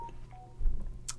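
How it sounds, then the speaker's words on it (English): A phone gives off a brief electronic tone burst under a low background hum, a short beep-like chirp near the end of an otherwise quiet moment. "Sorry for my phone making noise here."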